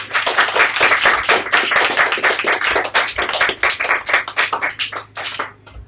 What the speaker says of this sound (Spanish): Vamos a darle un aplauso al Señor Jesucristo.